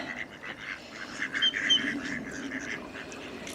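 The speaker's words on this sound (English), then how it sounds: "Little ducks on the pond." Little ducks on a calm nature reserve pond quack in a quiet series of calls at a moderate distance, with no talking.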